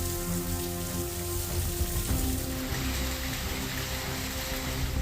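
Heavy rain pours steadily in coastal Tamil Nadu around Nagapattinam and Thanjavur, a constant dense hiss of drops on surfaces with a faint steady hum beneath and no voices.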